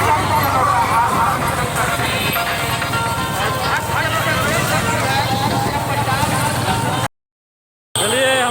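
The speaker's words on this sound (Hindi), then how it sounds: "ये हुजूम है मेला घूमने आए लोगों की" Dense crowd hubbub from fairgoers at a Dussehra fair in Muzaffarpur, Bihar, with overlapping voices and street noise running steadily at close range before cutting out near the end.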